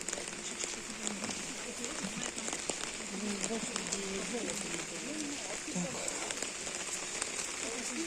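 Rain pattering on surfaces at an open-air market, a constant soft hiss with scattered drips while someone speaks briefly nearby.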